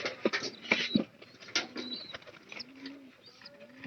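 Pigeons and their chicks make soft coos and thin squeaky calls nearby, with scattered rustles and light flutters between the calls.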